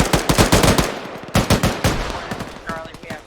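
Rapid bursts of automatic gunfire ring out in a military simulation video game, several close, loud volleys separated by brief pauses, with a faint voice underneath toward the end.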